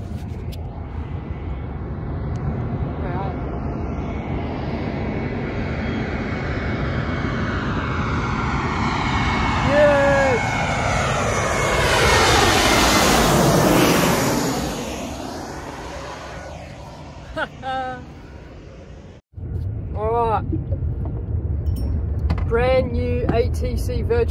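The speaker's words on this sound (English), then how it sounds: "Big plane coming right now," A big plane flies low over an outdoor fishing spot, its engine roar swelling loud with a sweeping Doppler pitch shift, then fading, while people talk near the end.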